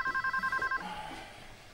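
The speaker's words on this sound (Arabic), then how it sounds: "عبين ما رد انا على التليفون" A telephone rings in a home kitchen, a pulsed electronic double-tone repeating rapidly for under a second, then stopping as faint room noise continues.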